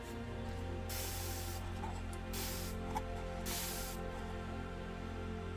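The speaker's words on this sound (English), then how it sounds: "And then I will spray it from here." A spray bottle mists water over an isopod enclosure in a few short, soft hissing bursts, each lasting under a second, separated by brief pauses against a quiet background.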